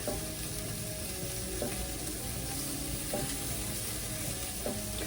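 Old Bay-seasoned scallops sizzle steadily in a frying pan, a close, continuous crackle with a few faint utensil clinks and stirring sounds, no talking.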